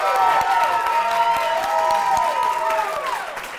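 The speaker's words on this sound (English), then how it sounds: "big round of applause again for all of our contestants here tonight" A studio audience at a Bachelorette-style show claps and cheers for the contestants, sustained applause and crowd noise at moderate volume with a tonal music bed underneath.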